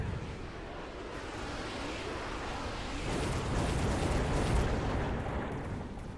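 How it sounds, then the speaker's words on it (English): Missiles exploding in the video game Mechabellum, a dense, continuous rumble of overlapping blasts and booms that swells louder partway through and stays heavy to the end. "tons of missiles went down"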